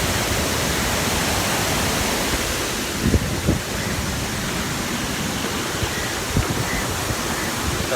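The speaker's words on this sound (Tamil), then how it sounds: "தண்ணி ரொம்ப வேகமாக தான் வருது" Fast-flowing river water rushing steadily and loudly as a continuous broadband wash close by, with a few faint knocks partway through and no talk.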